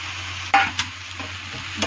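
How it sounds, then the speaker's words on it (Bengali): Fried capsicum and eggplant drop into sizzling spices in a pan and get stirred, a soft steady fry punctuated by a few close scraping strokes. "যখন ভেজে রাখা শিমলা মির্চ আর বেগুনটা আমি এখন দিয়ে দিচ্ছি।"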